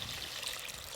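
Water pours into a cooking pan of rui posto, fish simmering in ground poppy seed paste and spices, a steady broadband trickle and splash lasting about a second with no talk.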